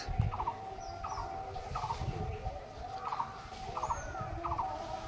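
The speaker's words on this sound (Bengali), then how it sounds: "আর আওয়াজ শুনতে পাচ্ছ, পাখি ডাকছে।" Several birds call repeatedly on a quiet morning outdoors. A regular, rapid chattering call recurs about once a second, with higher faint calls and rustling behind it.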